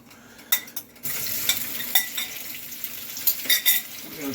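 Fresh tomatoes and garlic hit hot oil in a pan, a sudden rush of sizzling that holds steady, broken by a few sharp utensil clinks and scrapes as the pan is stirred, close and unvoiced.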